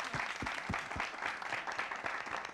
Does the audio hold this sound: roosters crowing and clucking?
no